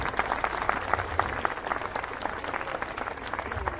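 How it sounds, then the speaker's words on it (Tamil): Applause for children who played music at a school annual day in Ambattur, steady and moderately loud with distinct individual claps, and little voice underneath. "அருமையாக வாசித்த நம்ம குழந்தைங்களுக்கு நல்ல கரகோஷம் எழுப்புமாறு கேட்டுக்கொள்கிறோம்"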